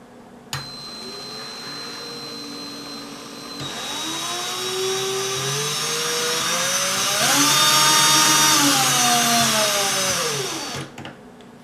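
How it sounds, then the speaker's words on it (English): A power drill runs with no load and steadily speeds up in stages, its motor whine climbing in pitch and loudness over several seconds before it cuts off. "I'm going to try to show this by slowly speeding up this power drill"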